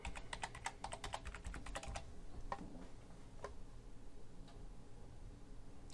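Rapid clattering keystrokes on a computer keyboard as an email and password are entered, a quick burst of clicks followed by a few scattered taps, faint and close by.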